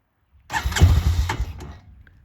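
A 2007 Honda Recon ES ATV engine cranks briefly and catches, loud and close, then settles into a rough idle that fades over about two seconds.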